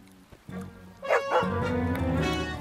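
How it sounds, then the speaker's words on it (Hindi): A dog barking and yipping at close range, a few sharp barks rising into a drawn-out whining yowl, loud and alone with no talk over it. "कुत्ता क्यों भौंक रहा है?"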